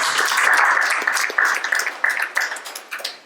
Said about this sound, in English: So, especially another round of applause